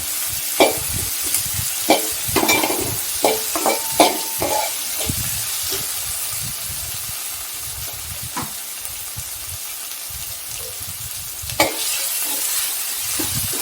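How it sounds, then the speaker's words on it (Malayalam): Thinly sliced onion sautés in a pan, a moderate sizzle under repeated scraping and knocking strokes of a spoon, busiest early on, then settling into steadier frying with an occasional clack; no one speaks. "കനം കുറച്ചരിഞ്ഞ സവാളയും ചേർത്ത് കൊടുക്കാം ഇത് നന്നായി വഴറ്റിയെടുക്കാം"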